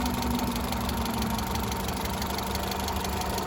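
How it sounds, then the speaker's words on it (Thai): A 2004 Honda Civic Dimension with a VTEC engine and automatic transmission idles smoothly, a steady mid-pitched hum with a faint low rumble that holds constant and close throughout, with no voices. "เครื่องยนต์สตาร์ทอยู่นะครับ เครื่องเดินนิ่งนะครับต้องเดินเบาครับ"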